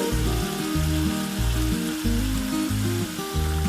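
Chili powder and spices frying in hot oil in a home kitchen, a loud, continuous sizzle with a rhythmic, pulsing low thump running under it; no voices.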